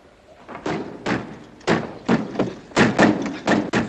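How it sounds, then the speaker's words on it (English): Door in a tense WW2 wartime film scene being shut and secured, heard as a series of close, loud wooden thuds and knocks spaced irregularly, with no voices. "lock the door."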